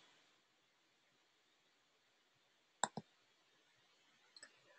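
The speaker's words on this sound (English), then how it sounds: "So let me click on that" A computer mouse clicks twice in quick succession at a desk, crisp and close, followed by a softer pair of clicks a moment later against a quiet background.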